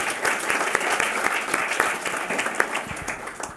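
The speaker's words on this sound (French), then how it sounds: "Applaudissons aussi Luce, Flore, Morgane, Gabriel et Solène pour leur excellent travail tout au long du semestre." Museum event audience in France applauding students, dense steady clapping with sharp individual claps standing out at a moderate distance.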